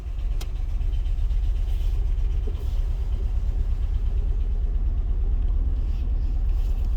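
A used car bought for a quick flip drives along with its engine running, a steady low rumble and road noise throughout, close and even in level, with no talk.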